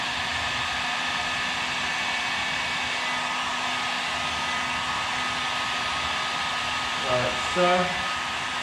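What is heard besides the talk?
heat gun warming vinyl wrap on car edges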